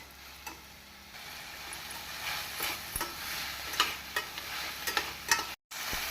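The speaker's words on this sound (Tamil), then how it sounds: "இந்த அளவு தக்காளி வதங்கியதும் நாம் வாழைப்பூவை போட்டு விடலாம்." Banana flower tipped into a kadai of tomatoes frying for vazhaipoo kulambu, bringing soft stirring scrapes and a low sizzle with scattered ticks, then a brief cut to silence near the end.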